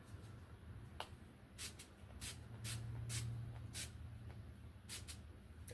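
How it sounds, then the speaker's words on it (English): A handheld spray bottle fires a series of short, sharp spritzes at uneven intervals, about nine bursts in all, close and fairly quiet over a low background hum. "Let's spray."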